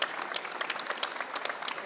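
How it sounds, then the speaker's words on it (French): Applause from an audience for five startups at a contest in a large arena, a brief, dense patter of many hands clapping, moderately distant and fairly even. "j'aimerais qu'on vous applaudisse bien fort"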